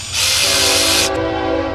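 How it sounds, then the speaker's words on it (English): A passing train rumbles nearby with a steady low drone and a loud, bright hissing burst that cuts off after about a second, while the rumble carries on alone, heard outside during work on a Ford Ranger alternator. "Jeez, that's another train."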